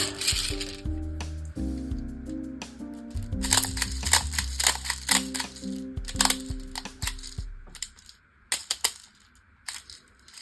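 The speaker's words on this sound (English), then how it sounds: "Let's fill up a third mag." Airsoft BBs clink and rattle into an HK416C magazine in quick, irregular bursts of small metallic ticks, close and fairly loud, with brief pauses between pours.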